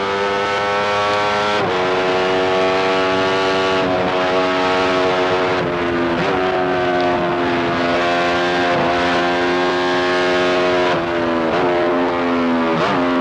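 Benelli racing motorcycle at race pace on an onboard TT lap of the Isle of Man, 1993: a loud, continuous high-pitched engine wail fills the clip, rising and dipping with gear changes and throttle shifts.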